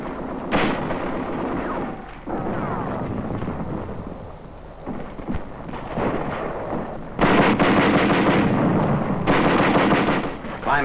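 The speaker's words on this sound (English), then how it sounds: "British elements attempt to cross one of the many canals in this sector. Tanks and Bren guns giving supporting fire." Tanks and Bren guns fire in support of British troops crossing a canal in WWII, heard as rumbling booms and sustained bursts of gunfire in a dense, noisy old recording.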